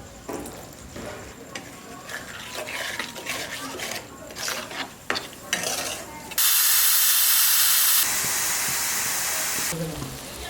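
Mutton ghugni spices, including Kashmiri chilli powder, cook in a pan: a spoon scrapes and clatters, then a sudden loud sizzling hiss bursts up when a little water goes in and settles into a steady sizzle.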